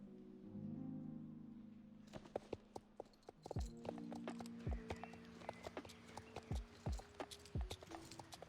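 Horse hooves clip-clopping in the Star Stable Online riding game, a series of crisp, evenly spaced hoofbeats that begin after a short engine-like hum and continue at a walking rhythm.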